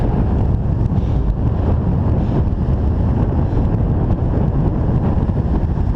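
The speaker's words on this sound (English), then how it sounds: "if you hear the wind in the background" Wind blowing on a beach at high tide, a constant loud low rumble buffeting the microphone, with faint surf mixed into the roar and no voices.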